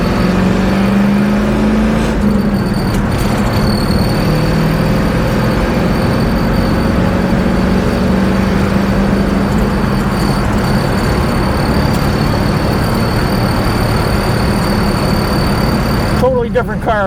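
A 1966 Ford Ranchero on the road, its engine a steady low drone with rumbling road and wind noise throughout, loud and continuous, with a voice talking faintly over it.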